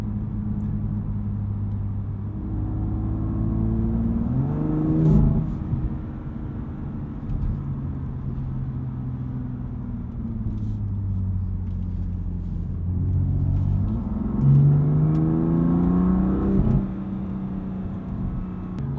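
A 2020 BMW M2 Competition engine revs up twice during a test drive, each pull rising in pitch with gear-change dips between, over a steady road rumble throughout; close and fairly loud, no talk.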